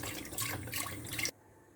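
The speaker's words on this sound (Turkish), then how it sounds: "1 litre sütümüzü alalım." A litre of milk poured into a pot in a home kitchen, producing a steady liquid splashing rush that stops abruptly, leaving near silence.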